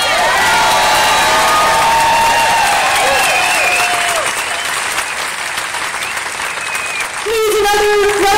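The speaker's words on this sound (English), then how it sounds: "Please, another round of applause for combat veteran Michelle Massacott." Loud applause and cheering from a crowd at a women's pro-choice rally in Albuquerque, New Mexico, sustained throughout with whoops, and a voice speaking over it near the end.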